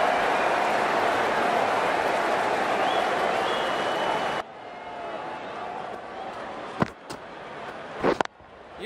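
Crowd noise from the stadium in the cricket video game Cricket 19, an IPL 2020 match between MI and DC: a steady loud roar of applause and cheering for about four seconds, then fading to quieter background with a few sharp clicks.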